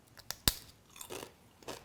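Crisp sweet potato veggie chips are bitten with one sharp close crunch, followed by softer chewing crunches, quiet and without talk.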